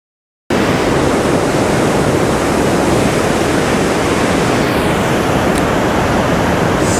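Mountain stream water spilling over a rock, a steady, dense rush of broadband noise that stays loud and unbroken throughout, starting abruptly after a brief silence.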